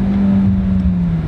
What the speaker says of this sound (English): you especially want to accelerate harshly like this, because you want to stress the motor